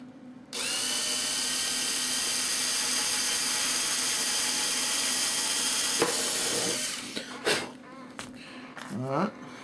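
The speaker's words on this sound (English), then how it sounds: "Let's drill the first one." A small electric drill bores into a part for a Phoenix Models Sukhoi Su-31 model airplane, a loud steady whine running for several seconds before stopping, followed by a few light clattering handling noises.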